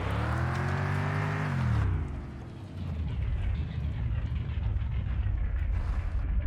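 A car engine in the driving game Mon Bazou revs loudly with a rising tone, then drops into a steady rumbling drive.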